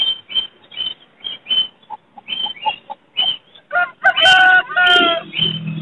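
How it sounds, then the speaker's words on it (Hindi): Aseel rooster of Shamo breed with a Thai cross, in a bird market at Chichawatni, gives a run of short rhythmic clucks that build into a louder crow close by. "शामू नस्ल का मुर्गा है और थाई का क्रॉस है इसमें।"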